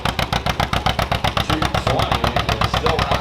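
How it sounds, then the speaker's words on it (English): A John Deere tractor engine roars loud and close during a tractor pull in Mondovi, Wisconsin, with a rapid, even pulsing beat that holds strong throughout. "Where that tractor's going to go, it's starting to struggle around."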